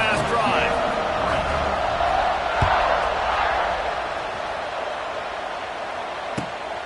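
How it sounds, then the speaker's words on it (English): Football stadium crowd roaring during a kickoff, a broad, steady wash of cheering that slowly eases, with a commentator talking over it and a couple of sharp thuds. "this crowd is feeling themselves after that last drive"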